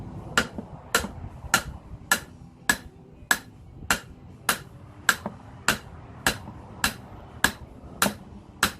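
Sharp metallic hammer blows strike at a steady rhythm, about fourteen evenly spaced hits ringing out close up, driving a drill shaft out through its bearing.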